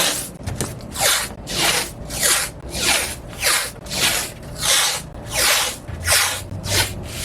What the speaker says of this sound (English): Gotta make sure all these pieces of tape are stuck to one another really well.